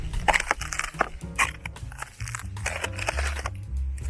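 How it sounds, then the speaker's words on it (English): Footsteps crunch over stepped sandstone at Two Cliffs Cove on Lake Powell, a run of gritty, scraping steps in an uneven rhythm, close and moderately loud, with no voices. "this stepped sandstone, which was very crunchy sounding when you walked over it."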